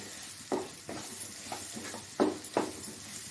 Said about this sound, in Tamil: வெங்காயம், பச்சை மிளகா, இது வந்து நல்லா வதக்கணும்லாம் இல்லை